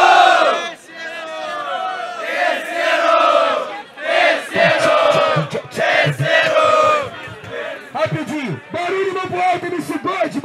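Crowd at a Brazilian street rap battle yelling and cheering for an MC, a dense roar of many shouting voices close by, with chants rising and falling in waves.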